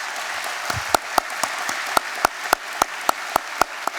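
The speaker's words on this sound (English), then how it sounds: "Please join me in a round of applause for these people" Audience applause at a chamber of commerce annual meeting, a steady wash of clapping with a nearby pair of hands striking sharply in a regular rhythm, moderately loud and without talk.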